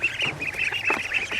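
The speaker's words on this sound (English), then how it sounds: "let's have a look at the duckies" Ducks on a self-sufficient homestead, a flighty flock resting in their pen, give a string of nasal quacks and calls, fairly close, several overlapping in quick bursts.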